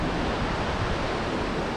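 Ocean waves break and wash along a California beach in a steady, dense rush of surf mixed with wind noise, with no one speaking.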